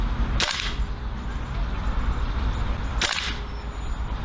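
Two sharp airsoft shots from a Marui AKM gas blowback rifle loaded with BavTac 0.30g BBs, each a crisp crack with a bolt clack, spaced a few seconds apart over a steady background hiss.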